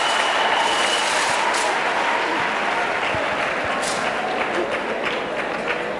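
A church congregation applauds and cheers for Jesus Christ in a loud, continuous wash of clapping and voices that holds steady throughout.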